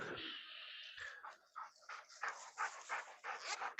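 A dog yips and barks in short bursts close by, in a household during an online webinar, with no talk over the sounds.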